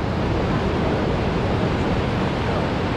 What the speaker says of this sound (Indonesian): Sebuah pantai yang sangat indah dengan air-airnya yang sangat bening.